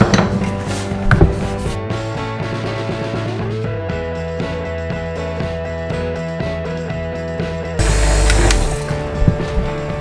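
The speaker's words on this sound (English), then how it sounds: "I'm going to use my polishing wheel, and we'll see how this goes." A bench polishing wheel works on motorcycle fork tubes from an MT250 restoration, giving a loud, steady motor whine with shifting grinding and scraping tones and a few sharp knocks as the part is pressed against it.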